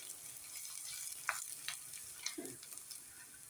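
Asafoetida and turmeric tempering in hot oil for a moong dal dish on a low flame, a steady quiet broadband sizzle with a few brief crackles and pops, close and without speech.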